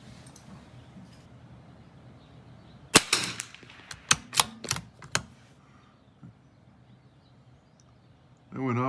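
Series of sharp .22LR rifle shots firing Eley Practice match ammunition, about five to six distinct cracks between 3 and 5 seconds, close and loud against quiet outdoor background.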